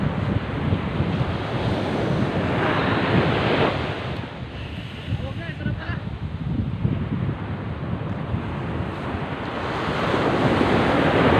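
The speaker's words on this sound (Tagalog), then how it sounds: "lalaki ng alon, tapos malakas ang agos" Ocean waves and a strong current at a riverside fishing spot, heard as a broad, continuous roar of surf and rushing water mixed with wind buffeting the microphone, steady throughout with no voices.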